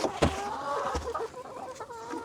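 Several chickens cluck and call near the coop, with a few sharp louder squawks over a steady busy backdrop of fowl noise.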